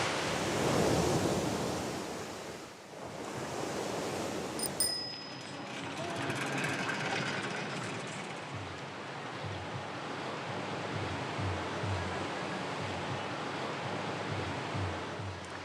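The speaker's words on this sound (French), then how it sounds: "les vagues arrivent de ce côté-là, de l'atoll" Ocean waves break on an atoll, a loud surging wash at first that eases into a lower rolling rumble, with wind buffeting the microphone.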